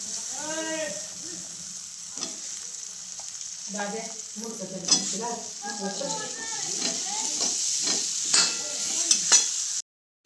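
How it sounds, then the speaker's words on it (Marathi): Shelled peas and potato fry in a pan with a constant sizzle and scraping stirs, while someone talks over the cooking throughout. "व्यवस्थित हलवून घेतलं सगळं."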